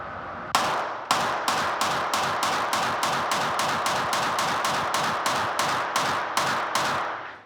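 A SIG P365 pistol fires a long steady string of about twenty shots during a barrel torture test, each crack sharp and ringing with a metallic clang, evenly spaced and loud with no talking.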